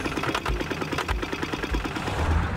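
A two-wheel tractor, or iron buffalo, with a brand-new motor chugs along in a muddy rice paddy, its engine making a quick, rough, knocking rhythm that stays loud and close throughout.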